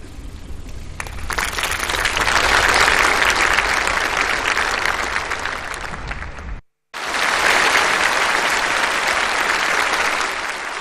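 Warm applause from a large audience at a formal Macau handover anniversary ceremony, a dense sustained clapping that swells, breaks off for a moment, then resumes just as strongly.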